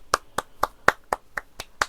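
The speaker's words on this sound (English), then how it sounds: "let's get James freaking Monroe a round of applause" Eight sharp, evenly spaced claps ring out at close range, loud and isolated with nothing underneath.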